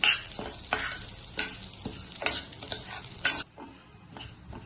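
Moong dal is roasted and stirred in a pan, giving repeated scraping stirs roughly every second over a faint dry sizzle, close and fairly quiet, with no speech.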